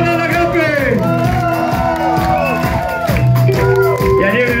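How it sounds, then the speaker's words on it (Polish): A concert crowd at a show cheers, whoops and shouts for a man named Gapa, loud and close, with voices overlapping in a continuous roar. "Brawa na Gapy!"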